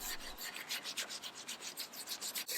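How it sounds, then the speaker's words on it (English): Wire brush scrubbed back and forth across oak wood in quick, rhythmic rasping strokes, close and fairly quiet, with no voices. "Well, this is actually wire brush,"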